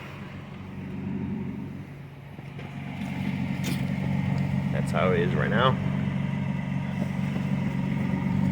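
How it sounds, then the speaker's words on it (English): A second-generation Toyota Tacoma pickup with its factory exhaust idles with a steady, fairly quiet low rumble throughout, while someone talks over it. "And the truck is on right now. You can hear how it sounds."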